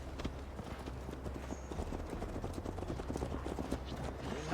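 Horse hooves gallop steadily in Assassin's Creed Valhalla, a rapid, rhythmic clip-clop close up and fairly loud over low travel noise, with no talk.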